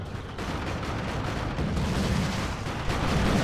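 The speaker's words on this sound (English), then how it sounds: "There goes a creeping Basilisk Barrage to kind of keep those Ogrins under wraps." Basilisk artillery barrage in Dawn of War 2: Retribution, a steady rumbling roar of distant shelling and blasts that runs continuously without a break, loud and dense, with no one talking.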